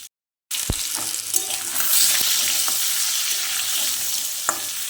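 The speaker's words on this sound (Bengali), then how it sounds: "হলুদ দিয়ে ভালো করে নেড়ে লাল লাল করে ভেজে নিলাম আলুগুলো" New potatoes fry with turmeric in a pan, a loud, continuous close sizzle with occasional stirring clicks and scrapes, heard alone after a brief silence at the start.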